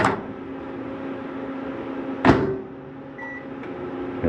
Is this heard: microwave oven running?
yes